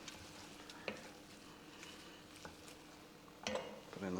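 Beef casserole with thick gravy, mixed herbs and bay leaves being stirred in a pot, quiet sizzling with a handful of soft clinks and scrapes, louder stirring near the end.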